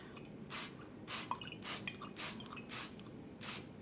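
Oil sprayer misting a baking sheet for naan dough, a series of about six short, soft hissing spray bursts spaced roughly evenly, close and fairly quiet with no talking.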